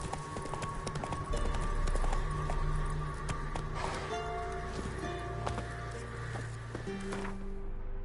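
Geralt's horse Roach gallops in The Witcher 3: Wild Hunt, a quick, steady clip-clop of hooves that stays close and clear over background game music, with no talking.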